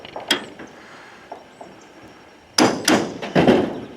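A hammer strikes a steel flat bar to drive it into old barn wood, with a few scattered light taps early on, then a cluster of louder, sharper knocks close by toward the end.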